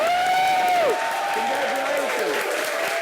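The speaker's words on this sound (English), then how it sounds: "When I count to 0, we're all just going to start applauding" A small group bursts into applause on a countdown cue, clapping close and steady for a few seconds while voices whoop and cheer over it.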